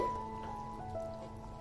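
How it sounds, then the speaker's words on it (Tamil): Kerala kadala curry (black chickpea curry) bubbling steadily in a pot, a soft continuous simmer with faint popping, close and fairly quiet, no voices. "இப்போ நல்லா கொதிச்சிருச்சு."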